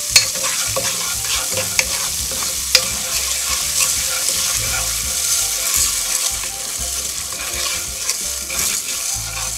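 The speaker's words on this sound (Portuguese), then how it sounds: "Vou dar uma fritadinha no arroz," Rice sizzles and crackles in hot oil with seasoning while being stirred, with scraping and a couple of sharp knocks of a utensil against the pan.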